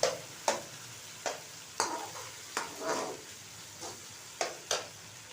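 Finely chopped green chillies fry in masala over a medium flame, a steady soft sizzle broken by repeated sharp scraping strokes of a spoon stirring the pan, close and alone without talk.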